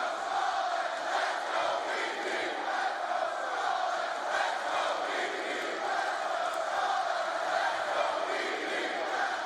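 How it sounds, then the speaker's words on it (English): A large esports arena crowd at the E-League Major in Atlanta roars continuously, a dense, distant wash of cheering and shouting that holds steady throughout. "let's take a look now at the crowd there at the E-League Major in Atlanta"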